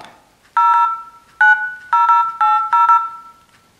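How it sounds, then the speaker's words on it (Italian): A smartphone dials a toll-free number, giving a series of loud, clean keypad tones: one longer tone, then several short beeps in uneven groups, with near silence between them. "Andiamo quindi a chiamare un numero verde"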